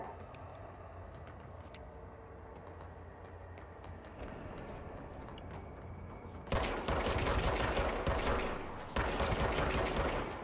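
Shots from an infinite-ammo pistol in the Control video game start partway through, loud and continuous rapid fire after a quieter stretch of low ambient game sound, with one brief pause.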